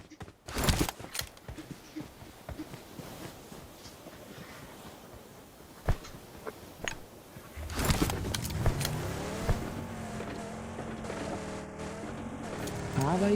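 A car drives in the BGMI mobile game, its engine a steady hum that rises and grows louder in the second half, with scattered clicks and bangs of gameplay earlier and no clear talk.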